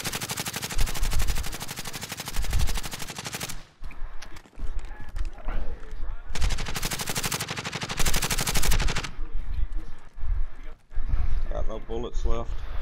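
Rapid automatic gunfire in Call of Duty: Modern Warfare, loud sustained bursts of several seconds each separated by brief pauses, with voices talking between and over the shooting.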